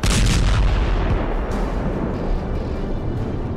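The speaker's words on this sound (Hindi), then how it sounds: "यूक्रेन ने रूस के ब्लैक सी हेडक्वार्टर पर मिसाइल से हमला कर दिया है।" Missile strike explosions at the Russian Black Sea Fleet headquarters, heard as a loud, heavy rumbling blast that rolls on and slowly fades, with no voices.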